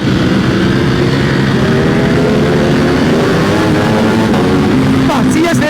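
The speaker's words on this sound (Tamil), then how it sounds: "சிஎஸ் ரேசிங் எக்ஸாஸ்டோட அந்த சவுண்டை பாருங்க." An inline-four motorcycle with a CS Racing exhaust gives a loud, close, continuous engine roar with a steady rumbling drone and shifting pitch, with talking over it.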